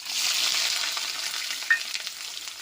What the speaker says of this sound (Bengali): সরষের তেলটা গরম হয়ে গেছে, আমি এই যে পেঁয়াজ কুচিগুলো দিয়ে দেবো আগে